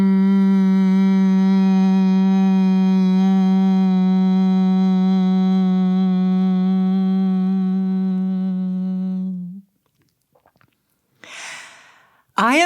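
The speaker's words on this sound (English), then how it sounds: "Close your lips and hum your exhale" A long, steady hummed exhale with closed lips during yoga pranayama breathing, a strong low drone rich in overtones held for about nine seconds, then a brief quiet pause and a soft breathy inhale.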